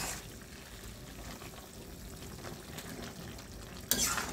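Radish and small hilsa fish curry with fresh coriander being stirred in a pan, a faint low sizzle with soft scraping strokes throughout and a sharper clatter near the end, with no voices.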